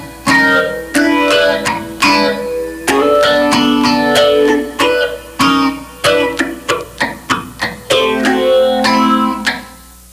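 A funk rhythm guitar part played slowly strums clipped chord stabs and scratchy muted hits in an uneven, syncopated pattern, clean and close, with no voices.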